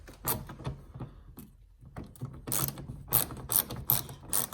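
A ratchet wrench clicks in quick bursts while backing out a 7mm screw from a truck fender flare during a grille install, close and crisp mechanical ratcheting with short pauses between turns.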